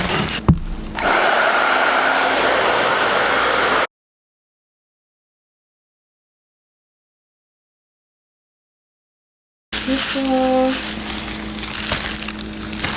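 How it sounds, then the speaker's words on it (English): A small hair-dryer cap on low fan and warm whirs with a steady, dull airflow hum, cuts out into silence for several seconds, then starts running again with some rustling. "I bought this little blow dryer hair cap thing on Amazon"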